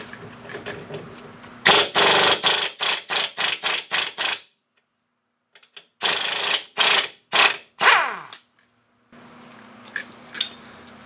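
A hand ratchet clicks in quick bursts as it loosens a 21mm ball joint nut on an Audi Q5 control arm, two loud close runs of rapid ratcheting separated by a short pause.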